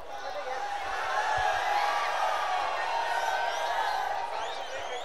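Crowd roaring and cheering at a women's Dahi Handi Govinda pyramid competition final, a steady dense wash of voices and whoops that swells slightly midway and holds throughout.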